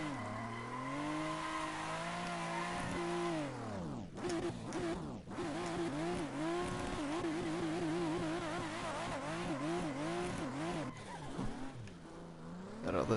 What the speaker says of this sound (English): That other tire's just spinning me around.